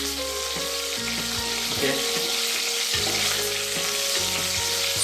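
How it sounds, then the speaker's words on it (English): Curry leaves and green chili sizzle steadily in hot oil, a loud continuous crackling fry with occasional stirring; a voice speaks one brief word. "Now try to fry them or try to allow it for at least 1 or 2 minutes"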